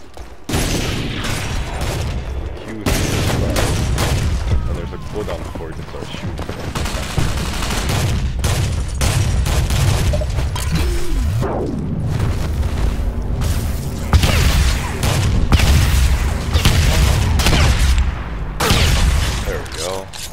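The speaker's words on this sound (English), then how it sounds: "Submachine guns." Submachine gun fire in the online shooter Ghost Recon Online, with bursts of rapid shots and heavy booms in nearly continuous, loud volleys while a player talks over the action.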